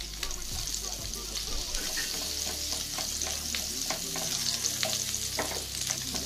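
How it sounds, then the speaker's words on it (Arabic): A cube of butter sizzles and fries in the hot pan where meat was just sautéed, a steady crackling hiss with scraping stirs, close and fairly faint. "نفس الطاسه اللي انا شوحت فيها اللحمه، احط بس كده معلقه زبده كده تاني مكعب كده"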